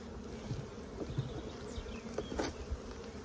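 Honey bees hum and buzz around an open hive frame loaded with nectar, a close, steady drone with individual bees zipping past now and then.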